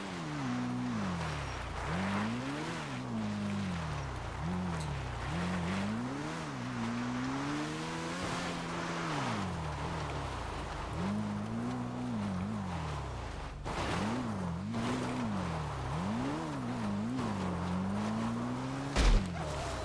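Car engine in GTA roleplay on NoPixel, revving repeatedly in rising and falling sweeps over about twenty seconds, loud and close, with some tire noise.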